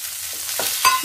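Capsicum, soaked moong and chickpeas being stirred in a pan over heat, with a few scraping strokes over a soft, close sizzle.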